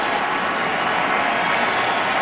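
A stadium crowd at a World Series baseball game, Red Sox at Cardinals, applauding pitcher John Lackey with dense, steady, loud clapping throughout.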